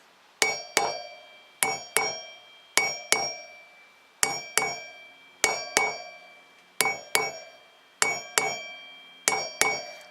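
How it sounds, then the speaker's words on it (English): Metallic hammer taps on the outer race of a wheel bearing being driven into a dual-sport motorcycle's wheel hub ring out in steady pairs, each strike bright and clanging with a short ringing decay, close and alone. "I'm angling the hammer so it only connects with the outer race of the bearing."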